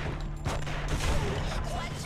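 Gunfire in The Punisher video game, dense and continuous across the whole clip, mixed with crashes, scuffling and a steady low hum, with game voices speaking over the din.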